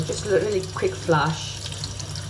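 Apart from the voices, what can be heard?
watering a plant with tap water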